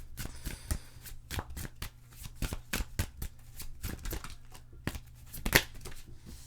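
Tarot cards are shuffled and handled during a reading, with repeated close crisp riffles and slaps in an irregular rhythm and one sharper snap near the end, without speech.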